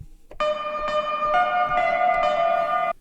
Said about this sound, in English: The last thing I've added to this track is a clav sound,